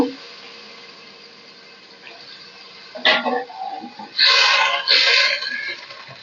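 Hot water poured from the stove into a curry pot holding ginger-garlic paste and spices. A soft hiss is followed by a brief splash and then two longer bursts of pouring and sizzling.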